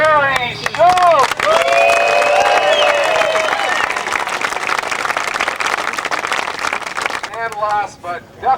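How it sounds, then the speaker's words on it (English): Crowd applause and cheering at the disc golf world championships, a broad wash of clapping under a loudspeaker-style announcer voice, with clapping continuing steadily for several seconds. "Big round of applause from Sheboygan, Barry Schultz."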